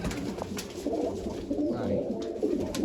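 Pigeons coo in a low, steady murmur near a loft where birds are fed and watered, with soft rustling and a few brief clicks over a continuous backdrop.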